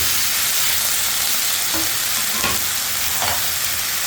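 Cut taro pieces drop into spice paste frying in a pan, giving a steady close sizzle with stirring scrapes and a few louder clatters, no voices.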